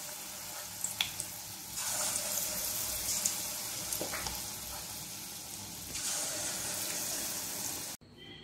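Wheat flour appam batter sizzles steadily in a pan, a continuous moderate frying hiss with a few faint clinks, running alone without talk.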